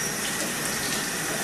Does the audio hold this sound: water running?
yes